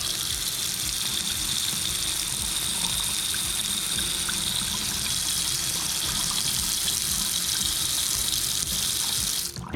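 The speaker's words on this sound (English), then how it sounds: "I'm just gonna let the water run." Hot water runs steadily from a newly installed kitchen faucet with its aerator removed, a constant close hiss and splash into the sink that lasts the whole stretch with no talk.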